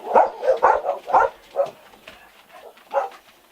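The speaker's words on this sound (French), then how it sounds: "Ce sont mes chiens qui aboient, rien d'anormal." Several dogs bark in a quick cluster of sharp woofs, then a pause and one more bark, close and fairly loud.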